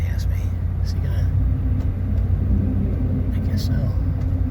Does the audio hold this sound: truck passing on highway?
yes